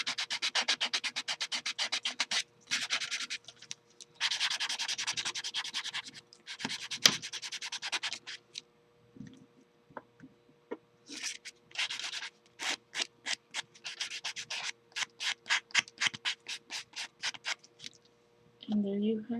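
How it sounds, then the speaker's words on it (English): A buffer rubs back and forth across a natural fingernail, making close, dry scratchy strokes in quick rhythmic bursts with brief pauses between them, and no talking. "you'd want to buff the nail."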